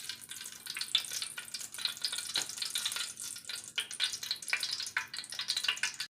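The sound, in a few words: coconut oil heating and sizzling in pan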